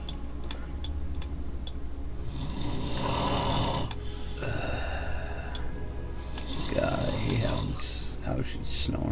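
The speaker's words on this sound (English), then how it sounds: "How she snores." A woman snores loudly in slow, rough breaths that rise and fall over steady background hum, with a faint ticking sound running underneath.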